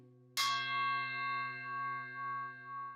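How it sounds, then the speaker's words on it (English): Himalayan singing bowl struck with the wooden end of a mallet, giving one sharp, bright strike followed by a long, piercing ringing tone that pulses gently as it sustains, close and alone. "you don't really want to be hitting the bowl with that wooden end. It's very piercing sound."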